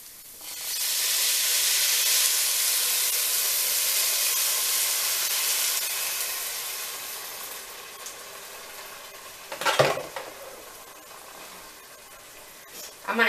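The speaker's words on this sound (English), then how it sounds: "Now that's going to start to sizzle," Water mixed with bouillon and salt hits a hot pan of rice and sizzles loudly. A steady broadband hiss swells, holds for several seconds and slowly fades, with a few clinks of a utensil near the end.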